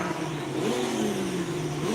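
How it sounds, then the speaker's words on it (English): Racing kart engines at a kart track buzz and rev from a moderate distance, a steady droning whine with rising pitch sweeps as karts accelerate past. "I hear loud cars."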